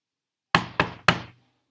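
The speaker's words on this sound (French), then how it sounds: "Robin toqua ensuite à la porte du hérisson." Three firm knocks land on a wooden door in quick succession, close and crisp, each with a short ringing decay, in otherwise silent surroundings.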